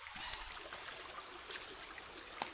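A river swollen after a flood flows with a soft, steady rush and light trickling, faint and continuous, with no voices.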